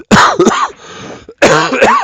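A close, loud throat clearing followed by a short cough, then a brief pause and another harsh bout of throat clearing.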